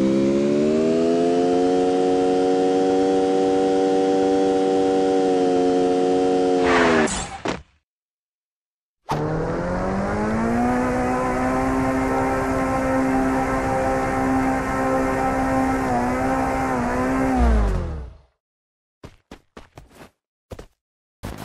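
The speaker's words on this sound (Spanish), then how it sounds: "el sonido del auto deportivo, que mejoró mucho" A sports car engine in Free Fire Max runs as a steady, loud drone, cuts off, then returns in a second long burst before stopping, followed by a few short clicks; no talking.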